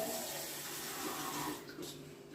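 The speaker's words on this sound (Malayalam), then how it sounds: "ആവശ്യത്തിന് വെള്ളം ഒഴിക്കുക" Water pours steadily into a pressure cooker holding a beef curry mixture, a close, continuous splashing rush that thins out toward the end.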